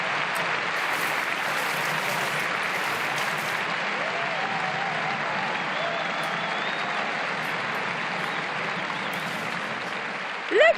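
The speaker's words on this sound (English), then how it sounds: "court number 1, you can actually hear from here the applause they're putting out there" Distant applause from the Court No. 1 crowd at Wimbledon rolls on steadily throughout, a broad continuous wash heard from outside the court, with a brief louder bump at the very end.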